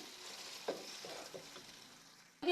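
Tomato paste fries in hot oil in a home kitchen while an Iraqi fish meal is prepared, giving a steady, soft sizzle with a few brief stirring knocks and a louder clatter at the very end.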